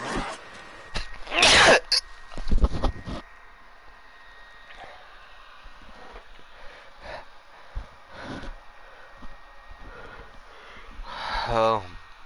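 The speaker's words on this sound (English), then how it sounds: "I can't take all this sneezing" A person sneezes close to a microphone: one sharp, loud burst early on, followed by quieter sniffs, throat sounds and scattered background clicks and noises.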